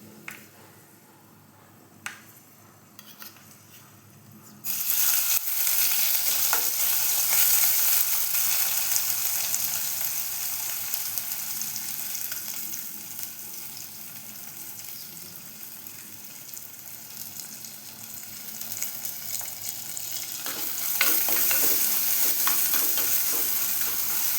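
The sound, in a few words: garlic, ginger, shallot paste frying for fish curry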